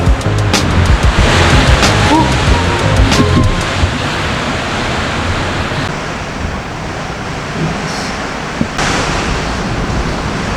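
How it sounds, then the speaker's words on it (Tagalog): Strong typhoon wind roars and buffets the microphone, loud and continuous at first, then easing to a steadier rush with a few brief knocks. "lakas dito ng hangin"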